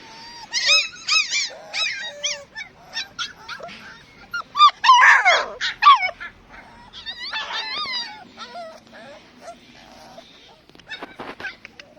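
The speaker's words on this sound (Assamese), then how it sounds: "এইটো নাগা ডগ হয়, নাগা মেইল ডগ হয়" Several Naga dogs, including a large male, yip, whine and bark in excited, overlapping bursts, loud and close, trailing off into scattered yelps near the end.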